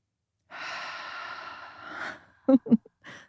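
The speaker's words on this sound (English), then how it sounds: "let's take a minute to breathe just here right now" A person draws a long, slow deep breath in, then exhales in a few short, close puffs and a final soft breath, with no talking.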